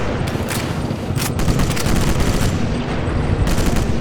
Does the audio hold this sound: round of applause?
no